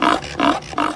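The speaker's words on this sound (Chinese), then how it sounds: "这是家猪，它的叫声是这样的。" A domestic pig grunting three times in a steady rhythm, each grunt a rough, throaty burst at close range, loud and clear with no talk over it.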